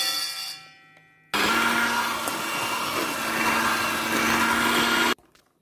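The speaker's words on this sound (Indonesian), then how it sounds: "Kita mixer saja dengan kecepatan rendah" An electric hand mixer runs at low speed, beating eggs into cooled choux pastry dough. A loud, steady motor whir switches on abruptly, holds for about four seconds and cuts off cleanly, with no voices.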